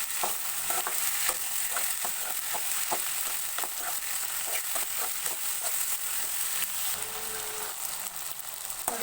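Brinjal frying in oil in a pan, stirred with a run of repeated scraping clicks over a continuous close sizzle.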